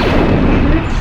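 Gunfire in the Roblox Death Star game, a loud dense burst of booming shots filling the whole second with no pause.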